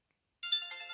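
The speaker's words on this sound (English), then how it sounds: "Which obviously is the Nokia, is a rip off of the Nokia tune." A tiny flip phone plays a polyphonic ringtone copying the Nokia tune, starting abruptly after a brief silence and continuing as a bright, close, clear electronic melody with no voices.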